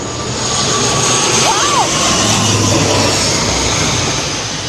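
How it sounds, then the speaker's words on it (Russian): An airplane comes in to land near a Golden Buddha temple on Samui, its engine a loud, steady roar that swells and holds for several seconds. "Еще и самолеты здесь садятся."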